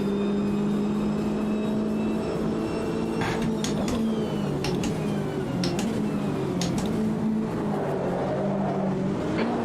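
GT3 race cars in Automobilista 2, a loud, continuous engine drone with whining gear notes and several sharp mechanical clicks and rattles as cars run close together on track.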